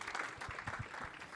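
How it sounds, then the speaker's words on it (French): Scattered, faint applause from a conference audience at a French design week event, a few soft claps rising briefly and thinning out quickly. "C'est pas mal du tout, ouais, on peut applaudir"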